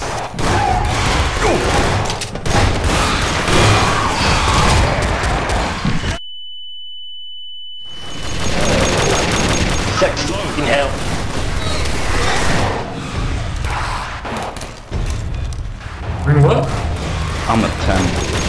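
Gunfire in Gmod Zombie Survival rattles in dense bursts under overlapping player voices, cut by a short gap of silence with a steady beep tone, then more shooting and chatter.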